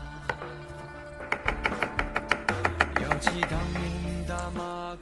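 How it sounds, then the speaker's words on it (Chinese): Knife chopping blanched, drained mushrooms finely on a board: a run of about a dozen close, crisp, evenly paced thunks, then a denser, quicker stretch of chopping toward the end, with no talk. "再把它切碎。"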